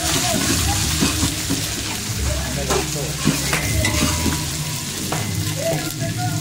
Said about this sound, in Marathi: तर आता मस्त की चिकनला फोडणी दिलंय